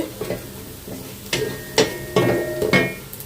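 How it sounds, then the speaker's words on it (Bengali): Chopped onion fries in a pan with a soft sizzle, broken by several sharp scraping and knocking strokes of a spoon stirring against the metal, close and without talk. "হাফ কাপ পেঁয়াজ কুচি দিয়ে দিলাম"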